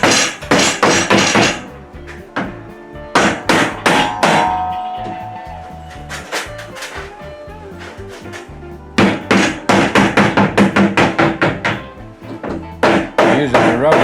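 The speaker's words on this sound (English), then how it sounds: "Using a rubber mallet so you don't damage anything" Rubber mallet pounding down the edges of a plastic Lifetime shed's panels, loud close bursts of rapid repeated thuds separated by short pauses, one longer break midway.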